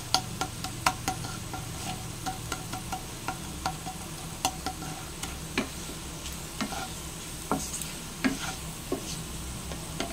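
Sugar melting in a hot pan while being stirred, a steady soft sizzle broken by repeated sharp scrapes and taps of the utensil against the pan, close and fairly loud.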